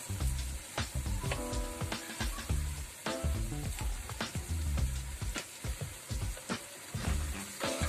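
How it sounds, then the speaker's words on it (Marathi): Ground masala paste hits hot oil for Malvani sukka chicken, crackling and sizzling close up in uneven surges as it is stirred, with no voices over it. "हे बघा, हे आता तेल सुटलंय. मी यात मग आता वाटून घेतलेलं वाटण टाकते."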